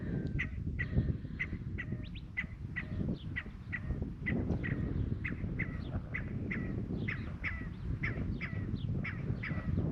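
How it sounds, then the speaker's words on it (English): A wild quail perched on a dirt pile outdoors gives a rapid series of short repeated calls, fairly close, over a constant background rumble, no talking. "That is a quail."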